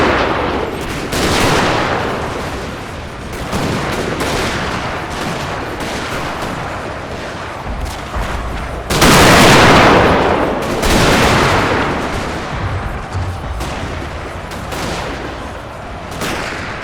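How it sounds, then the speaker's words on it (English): Sustained musket volleys and artillery in an American Civil War Total War battle at Conewago Creek, 1863. Continuous crackling rifle fire is punctuated by louder booming cannon blasts, all dense and ongoing without talk. "I'm just firing into the bushes"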